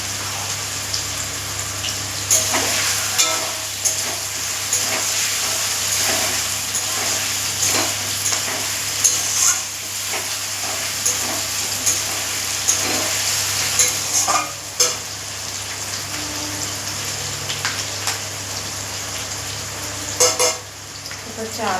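A paste of ginger and garlic fries in a hot pan, a loud continuous sizzle with repeated stirring scrapes and clatter running throughout; a voice speaks briefly under it.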